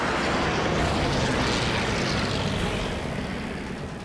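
A P-51 Mustang fighter plane in a dogfight with a German jet gives a loud, steady roar of piston engine and propeller, broadband and continuous, fading slightly toward the end with no talk over it.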